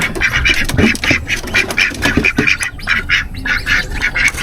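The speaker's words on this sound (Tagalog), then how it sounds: "Yung mga itik ko, malalaki na sila." A flock of domestic ducks quacks loudly and continuously close by, with overlapping nasal calls in a rapid, uneven rhythm.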